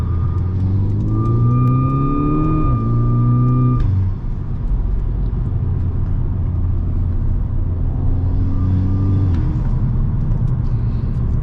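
Driven point-of-view in a VW Golf GTI or Scirocco R, a turbocharged engine drones steadily as revs climb through gears, with a turbo whistle rising over the engine note and dropping away at each shift.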